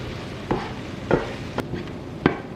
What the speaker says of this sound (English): mix the yogurt with the tomatoes and the masala and cook this for another 6 to 8 minutes and stir this occasionally